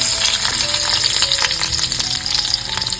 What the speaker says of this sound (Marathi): इथे ना कढईमध्ये तेल घालून घेतले सर्व लसूण घालून घेतो